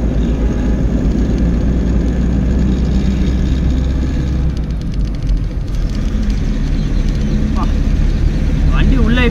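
A car engine labouring up a steep, poor mountain road, a heavy low drone running throughout, with someone talking over it nearly the whole time.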